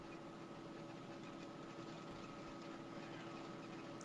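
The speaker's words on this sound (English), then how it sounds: "I can hear like a motor, an engine or something." A motor or engine drones steadily in the background, with an even, constant hum and a mechanical buzz that stays quiet and unchanging throughout, and no speech over it.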